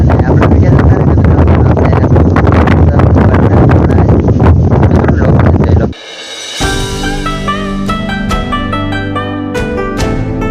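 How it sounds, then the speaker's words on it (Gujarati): Strong wind buffets the microphone outdoors on a rainy farm, a loud continuous roar that suddenly cuts off and gives way to quieter, steadier background sound. "બહુ પવન છે ને વરસાદ પણ છે."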